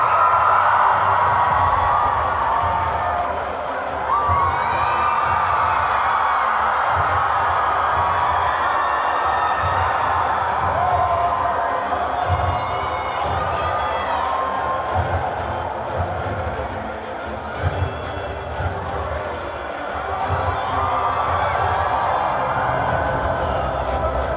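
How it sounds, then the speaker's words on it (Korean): A large crowd at a film festival open talk claps and cheers steadily for a long stretch, a dense, continuous wash of applause with scattered whoops. "큰 박수만 해주세요."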